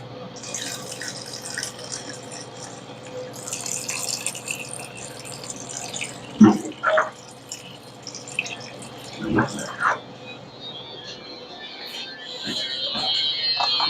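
Water drips and trickles into a pan while cooking at home, with intermittent splashy bursts and faint tap-like running under quiet talk.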